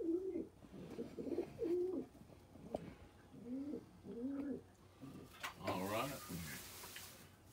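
Pigeons in a loft coo in soft, rounded bursts spread across the clip, under a low hum and some brief rustling, with a short chirpy flutter near the end.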